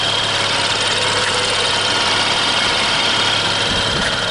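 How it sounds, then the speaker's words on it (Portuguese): Steady low engine idle of a 2015 BMW 435i convertible, 3.0-liter turbo six-cylinder, with a constant rumble and faint high whine, running evenly throughout with no voices. "Eu acho que é assim que esse motor tem que soar"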